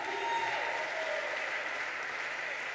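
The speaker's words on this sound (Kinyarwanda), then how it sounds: "Ese wakomera Imana amashyi?" Congregation applauding during a church service, a steady dense wash of clapping sustained throughout at fairly even loudness, with no talk.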